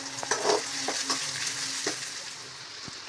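Onions frying in a pan while being stirred for a kovakkai (ivy gourd) gravy, with a steady sizzle, a few spatula scrapes and knocks near the start, and no talking.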